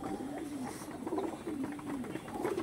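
Pure Pilanka breed pigeons give a series of low, rolling coos in close succession, nearby and moderately loud over a dull background hum.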